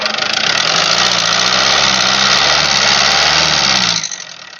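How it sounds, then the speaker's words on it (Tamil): A Tata Sumo diesel engine idles close by, a loud, steady, throbbing rumble that holds evenly for about four seconds before cutting down abruptly at the end. "இன்ஜினோட பீட் அப்படி லைவா கேளுங்க."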